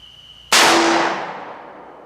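A Speer Gold Dot .357 Magnum round is fired from 10 feet into a gel block covered with four layers of denim, giving one sharp, loud, close report with a ringing decay that fades over about a second and a half.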